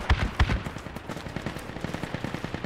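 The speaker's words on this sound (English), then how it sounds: "I'm taking like AR fire or something" Assault rifle fire in a tactical shooter game: two heavy shots up front, then a rapid, steady stream of bursts that sounds somewhat distant and stays fairly even throughout, with no talking.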